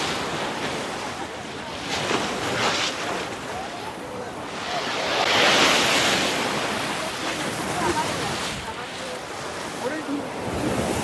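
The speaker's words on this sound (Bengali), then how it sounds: "ওই ঢেউটা আসতেছে না, এইটা একটা ঝাপটা দিবে।" Sea waves washing in at Patenga beach, Chittagong, a continuous surf roar with wind buffeting the microphone, swelling as a bigger wave breaks midway, no speech.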